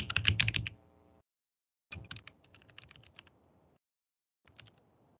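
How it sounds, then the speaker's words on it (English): Bursts of typing on a computer keyboard during a cybersecurity presentation, close and clear, with a dense flurry of key clicks at the start, a longer run of lighter taps after a pause, and a brief final burst. "Can you all clearly see the text that I'm typing up here?"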